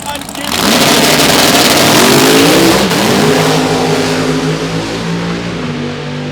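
A drag race car running E85 pump gas, not yet on full boost, launches at Toronto Motorsports Park with a loud engine roar that climbs and then holds steady as the tire spins, with crowd noise and voices mixed in underneath.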